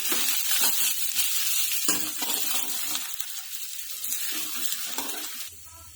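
Garlic and ginger sizzle and fry in a pan while being stirred, a steady close crackle with scraping spoon strokes that fades near the end.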